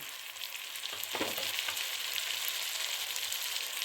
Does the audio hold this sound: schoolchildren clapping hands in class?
no